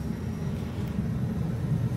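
Private plane engines run with a steady, low, even rumble, heard from inside the cabin and fairly quiet, with no talk over it.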